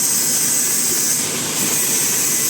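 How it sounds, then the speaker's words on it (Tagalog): A car engine, just repaired after failing to start, runs at a steady idle, a loud continuous whir with a high whine over it and no break in the sound. "Ngayon, mandar na yung makina."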